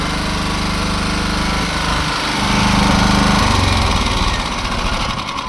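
A Champion 7 kW gas-petrol generator running on gas, a loud, close, steady engine drone with a slight rise in pitch and level midway through, and no talking.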